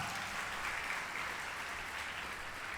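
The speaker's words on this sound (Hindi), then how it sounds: "जिन लोगों ने रक्तदान किया है एक बार जोरदार ताली बजाकर उनका" Audience at a Bhagwat katha gathering applauds blood donors, a dense, continuous roar of many hands clapping at an even level with no talk over it.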